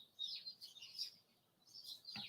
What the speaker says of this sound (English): if you can hear the beautiful birds in the background of this video